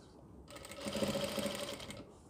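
Sewing machine stitching over the pleat seams of a Muslim cap, a short burst of rapid, even mechanical rattling that starts and stops within about two seconds, moderately near and fairly quiet.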